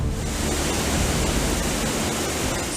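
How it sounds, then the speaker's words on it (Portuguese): Roaring waterfall at Cachoeira da Fumaça, a 144-metre drop where the water plunges with great force, heard as a loud, steady broadband rush that fills the whole stretch with no talking. "144 metros de queda d'água, um paredão imponente"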